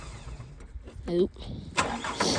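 A car engine is cranked for a cold start at 18 degrees, with a short whining crank, then a rough catch and a burst of noisy running, close by, with a person talking over it.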